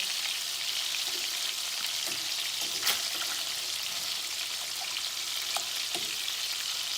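Scallops sear in a hot pan, giving a loud, continuous close-up sizzle with occasional crackles and pops and no talking over it.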